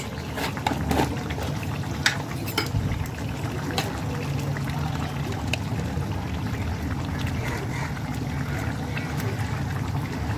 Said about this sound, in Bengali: খাটি ঘিটা আমি দেব এক টেবিল চামচ